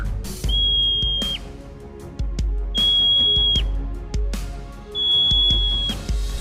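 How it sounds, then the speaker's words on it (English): A marmot gives three loud, sharp, sustained whistles at regular intervals over low rumbling background noise with scattered clicks. "Marmot."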